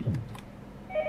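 Telephone keypad dialing tones from the Yomawari: Midnight Shadows horror game: a soft low blip, then a steady, clear two-pitch electronic tone near the end, fairly faint and without voices.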